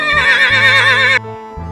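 A horse lets out a single loud, wavering whinny lasting about a second, heard over a steady low musical backing with no speech.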